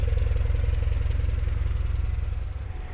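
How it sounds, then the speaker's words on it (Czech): A newly rebuilt engine in a 1980 Škoda 105 S with very low mileage idles steadily, giving a close, even, low throbbing rumble with a slight clatter and no talk. "Doufám, že to slyšíte v tom videu, ale takhle jako běží nová mašina vlastně."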